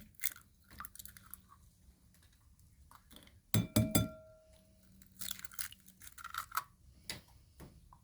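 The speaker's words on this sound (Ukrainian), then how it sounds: "В окрему посудину розбиваємо два яйця повністю." Two eggs crack with a sharp tap against a bowl, followed by scattered clinks and small kitchen handling noises in a quiet room.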